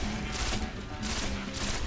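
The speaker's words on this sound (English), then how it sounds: "I'm getting shot from everywhere." Bursts of rapid gunfire in the video game Destiny, several volleys in quick succession with short gaps between them, loud and close over a steady background.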